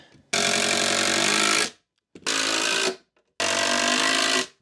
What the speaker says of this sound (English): I'm going to put a few screws in here because this is one of the main support pieces.